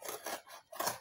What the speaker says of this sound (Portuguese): Feita essa parte, vamos retirar com a tesoura.